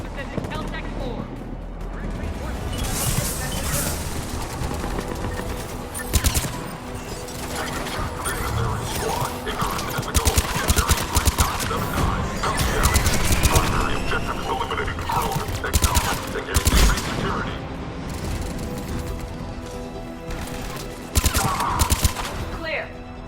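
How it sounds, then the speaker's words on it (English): Enemy gunfire in the video game Mass Effect 3 Legendary Edition, sustained automatic bursts and impacts over battle noise and mechanical clatter, with voices talking throughout. "Taking enemy fire from Pacific Caltech-4."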